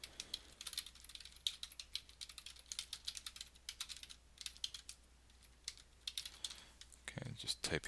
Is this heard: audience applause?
no